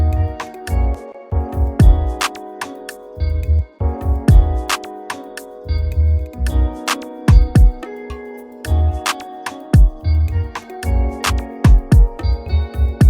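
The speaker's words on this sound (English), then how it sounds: "how to make like an Afrobeat alternative R&B beat" A bouncy, mid-tempo Afrobeat alternative R&B beat with punchy kicks, crisp percussion and layered melodic synths, playing alone with no vocals.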